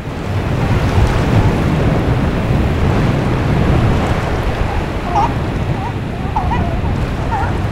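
Rough ocean waves and surf at a South African fur seal colony in stormy weather: a loud, continuous roar of breaking water and wind, with faint high calls rising near the end.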